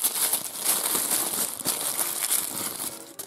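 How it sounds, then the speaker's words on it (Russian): Crinkly plastic packet rustled and pulled open from a toy surprise box, a close, soft crackling that runs continuously with a few sharper crinkles. "И тут шуршащий пакетик."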